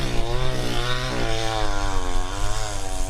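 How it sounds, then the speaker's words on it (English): A chainsaw engine runs close by, droning loudly and shifting pitch as it revs up and settles, with no talking. "Chainsaw action."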